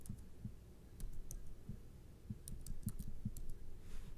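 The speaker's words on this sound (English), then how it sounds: "start typing" Computer keyboard typing: scattered, quiet key clicks in short irregular bursts, close and soft with no talking.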